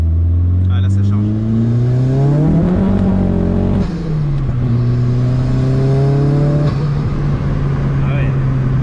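A 300-horsepower turbocharged Volkswagen Corrado accelerates hard, its engine pitch climbing with turbo spooling, dropping at a gear change, then climbing again, loud and close from inside the car.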